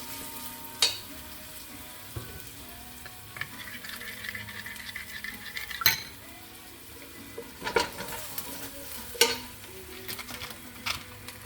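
Beef for kare kare is sautéed in a pan with annatto powder, giving a steady low sizzle broken by scattered stirring clinks and scrapes of a utensil against the pan.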